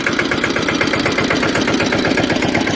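A tractor engine chugs steadily nearby in a field with a rapid, even throbbing rhythm, loud and continuous throughout.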